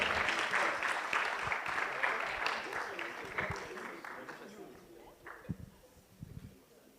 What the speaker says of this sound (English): A round of applause for them as they go down.